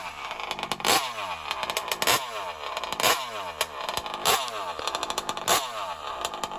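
A small high-pitched engine of an MCD RR5 RC car revs hard over and over, screaming up and dropping back in repeated bursts, loud and close.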